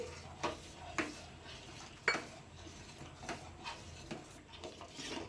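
Custard powder being stirred into almond milk in a pot, faint repeated scraping and clinking of a spoon against the pot, with soft periodic knocks.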